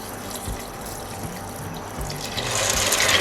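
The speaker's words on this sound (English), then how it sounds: "I'm gonna pour in water" Water poured into a cooking pot on the heat for parboiling beans in a yam and beans porridge, a steady running splash that grows louder and brighter toward the end.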